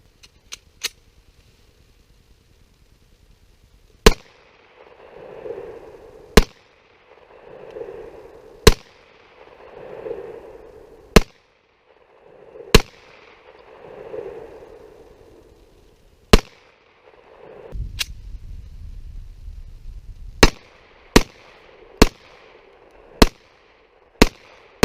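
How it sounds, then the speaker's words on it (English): Kahr CW45 pistol firing .45 rounds, new and uncleaned straight from the box: about a dozen sharp, loud shots at irregular intervals, some spaced seconds apart and others in a quick string near the end. "we're just going to put a bunch of rounds through it"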